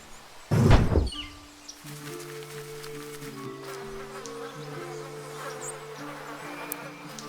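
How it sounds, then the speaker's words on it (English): Flies buzz around a hidden carcass in the turn-based RPG Goblin Stone. A sharp thump opens the scene, then several steady droning buzzes overlap and drift at a moderate level with no talk. "I hear flies buzzing."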